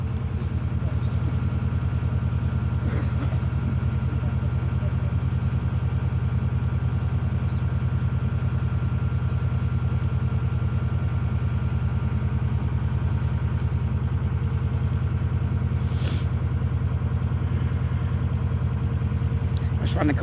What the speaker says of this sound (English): Oh, listen to that engine. It sounds lovely.